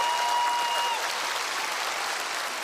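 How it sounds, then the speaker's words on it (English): Audience applause fills the room for two guest helpers on stage at a magic show, a steady dense wash of clapping with a faint tone fading out in the first second. "Give them a big round of applause helping us out"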